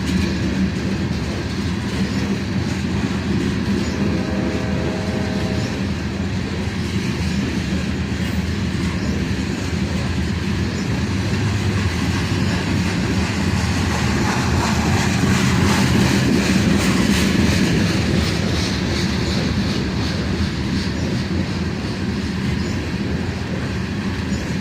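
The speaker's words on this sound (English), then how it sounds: "so it's probably an iron ore train" A long iron ore unit train rolls past close by in a continuous heavy rumble, with rhythmic clickety-clack from the wheels and brief squealing, swelling louder partway through.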